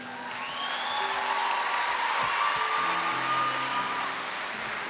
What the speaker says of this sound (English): I would like you to give them a big round of applause